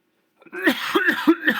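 A short series of rough, throaty coughs from a person with a cold, three or four in quick succession, close up after a moment of silence.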